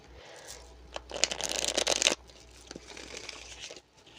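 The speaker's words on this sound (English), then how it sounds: "I'm not even used to shuffling like that" Tarot cards are shuffled by hand in a quick run of crisp riffling and slapping, close and fairly loud, dropping to softer rustling and handling noise afterward, with no talking.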